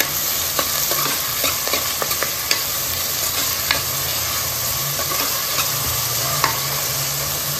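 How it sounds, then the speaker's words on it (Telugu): Curry leaves, green chillies and onions fry in hot oil in a pan, a loud continuous sizzle broken by sharp crackles and pops and the scrape of a spoon stirring, with no talking. "కొంచెం కరివేపాకు ఇది బాగా ఫ్రై చేసుకోవాలి"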